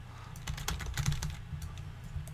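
Quick bursts of keystrokes on a computer keyboard while entering an item name in a game, an uneven run of close clicks and taps with brief pauses between them.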